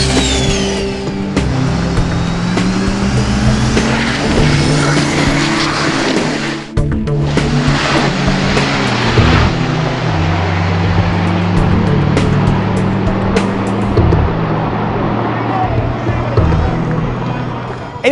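Modified diesel pickup trucks race on a track at a diesel shootout drag racing event, loud sustained engine roar with shifting pitch and tire noise, a brief dip midway, a voice talking over it.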